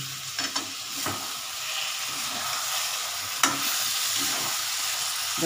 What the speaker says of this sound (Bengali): এবার আমি এটাকে একটু নাড়াচাড়া দিয়ে পনিরটা আমি একটু পরে দেবো।